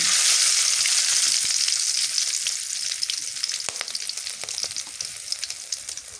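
Cumin, bay leaf, garam masala and cloves fry in hot oil with a loud, close, continuous sizzle that fades slightly over time, broken by occasional stirring clicks, with no voices.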